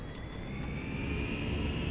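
Steady jet engine roar with a faint rising whine, an airliner's engines spooling toward takeoff thrust in the FSLabs flight simulator departing San Diego, continuous and fairly loud, without speech.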